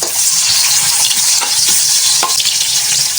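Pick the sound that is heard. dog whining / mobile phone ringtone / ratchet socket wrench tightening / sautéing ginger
sautéing ginger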